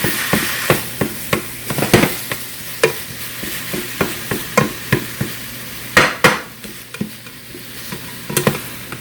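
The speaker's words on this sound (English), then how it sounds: "Now to this meat, while it's going to be browning, I'm going to season the meat first." Meat browning in a pan: a constant hiss of frying under repeated sharp clacks of a utensil stirring and scraping the pan at an uneven rhythm, close and fairly loud, with no talking.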